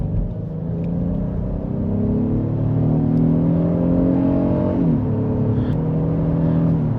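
Steady engine roar from a 2024 Honda Passport Black Edition AWD SUV with a V6 accelerating, pitch climbing through the gears with a brief shift dip, heard loud and continuous from inside the cabin.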